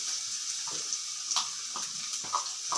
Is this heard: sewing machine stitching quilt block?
no